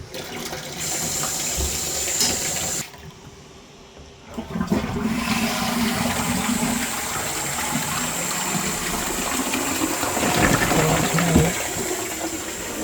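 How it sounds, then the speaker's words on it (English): A toilet cistern refills through a newly fitted float valve, water gushing and hissing steadily and close by, with a brief dip in flow before the filling resumes strongly to the end. "I'll put the float on and then I'll fill it up"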